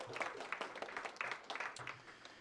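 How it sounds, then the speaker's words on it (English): An audience at a labor political-power session applauds, with moderately loud, irregular clapping from a crowd heard throughout and slightly distant. "we can give a round of applause for that"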